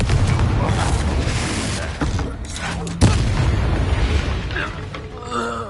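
A Confringo blasting spell explodes in a video game with a deep, booming burst and rumbling aftermath, loud and close, followed by a second sharp blast amid continuous background noise.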